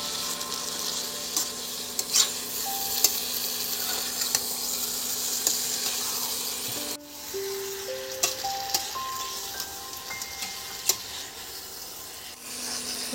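Chicken curry sizzles softly in a pan while being stirred and sautéed, a faint, continuous frying hiss with scattered scraping taps and a few brief tonal notes in the second half.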